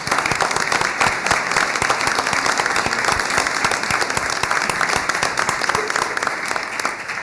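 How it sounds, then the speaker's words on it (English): Steady, sustained applause from an indoor audience at a school board meeting honoring students headed to Atlanta, even and close throughout with no speech over it. "Let's give them all a round of Thank applause."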